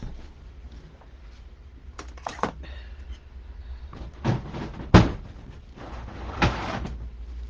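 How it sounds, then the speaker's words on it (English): Scissors snip through wreath-making material with a few sharp close clicks and rustles amid quiet handling noise, including a louder cut near the middle. "we just take our scissors and we cut it off"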